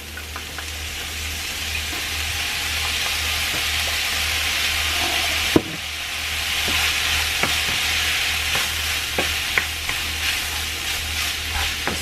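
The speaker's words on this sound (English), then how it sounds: "this is what our meat is looking like. I'm gonna go ahead and let it brown a little more" Ground beef browns in a hot pan, giving a steady, close sizzle with frequent scraping and stirring clicks from a utensil. No one speaks.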